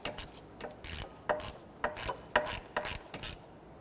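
A ratchet snugs down water pump housing bolts on a 1992-1996 Toyota Camry 2.2L L4, producing about eight short, crisp clicking bursts in a steady rhythm, close and clear with no talk.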